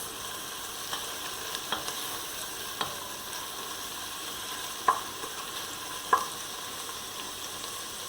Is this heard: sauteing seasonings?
yes